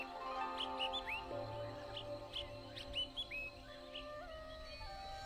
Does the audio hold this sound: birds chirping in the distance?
yes